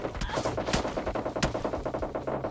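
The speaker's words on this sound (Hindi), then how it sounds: "मुझे बस गोली की आवाज आई थी" Gunfire in the video game PUBG Lite: a rapid, steady string of sharp shots fired one after another over a low background rumble, with no talking.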